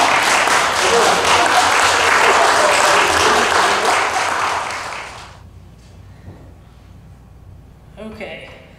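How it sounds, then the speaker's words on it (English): A church congregation claps loudly and steadily for about five seconds, then the applause cuts off into a quiet room where a voice speaks softly. "Are we allowed to clap?"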